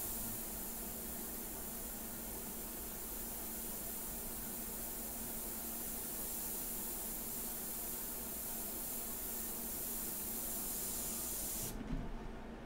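An airbrush sprays India ink in a steady, unbroken hiss lasting many seconds, close and even, then cuts off abruptly near the end.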